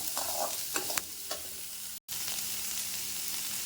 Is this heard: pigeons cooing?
no